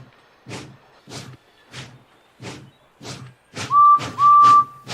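A narrator's voice imitating a steam engine whistle, with a few short held whistle tones near the end over a series of soft rhythmic puffs and chuffs.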